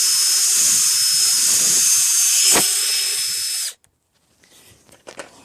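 An electric drill bores into a tire puncture hole to clean it, a loud steady high whine that holds for nearly four seconds, then cuts off, leaving a few faint scrapes and clicks.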